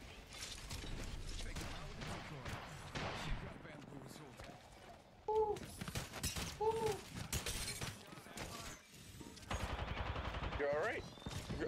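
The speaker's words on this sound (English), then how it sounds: "I hear gunshots all around me" Gunfire in a video game city, repeated sharp shots and bursts popping at varying distances, some rapid like automatic fire, mixed with mechanical clatter while several players talk over it.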